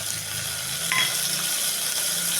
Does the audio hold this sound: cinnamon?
yes